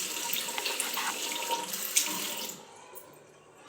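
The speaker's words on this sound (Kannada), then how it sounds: "ಕೈ ವಾಶ್ ಮಾಡ್ಕೊಂಬಿಡ್ತೀನಿ" Tap water running steadily while hands are washed under the faucet, a close, full hiss and splash that cuts off after a couple of seconds, leaving a quiet room.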